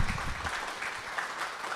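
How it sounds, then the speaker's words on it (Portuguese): Audience applauding at a Brazilian panel talk on women in audiovisual, a dense, even patter of many hands clapping throughout, moderately loud in the room with no talk over it. "eu queria uma salva de palmas aqui para a Cibele, por favor."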